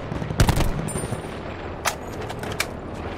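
Gunfire in the shooter game Battlefield V, a sharp loud burst of automatic fire up front followed by scattered single distant shots over a steady background of battle noise.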